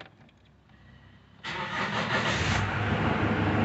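A 2011 Chevrolet S10 Executive pickup with the 2.8 MWM turbo diesel 4x4 engine cranks briefly, then fires and settles into a loud, steady close-up idle.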